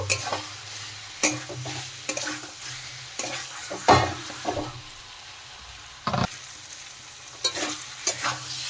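Fried pointed gourd and potato pieces are stirred into cooked spice masala in a pan, giving a soft ongoing sizzle punctuated by irregular scrapes and clanks of the spoon against the pan, with no voices.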